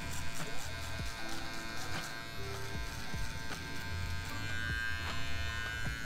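Electric hair trimmer cutting hair during a V-shaped fade haircut, a close, continuous buzz with small shifts in pitch and texture as the blade moves through the hair, no talk heard.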